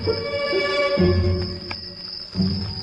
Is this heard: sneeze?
no